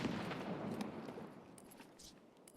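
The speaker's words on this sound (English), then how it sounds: "Lots of explosions." Gunfire and explosions in the Escape from Tarkov video game: a dense spray of rapid shots and booming blasts, fairly distant and muffled, thinning out toward the end.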